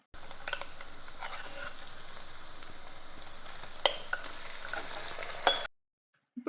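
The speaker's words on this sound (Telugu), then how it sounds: "ఇప్పుడు మనం ముందుగా మ్యారినేట్ చేసి పెట్టుకున్న చికెన్ ఇప్పుడు మనం దీనిలోకి యాడ్ చేసి ఫ్రై చేద్దాం." Marinated chicken fries in a pan for a chatpata chicken fry: a soft, steady sizzle with a few sharp clinks of stirring, ending abruptly into silence.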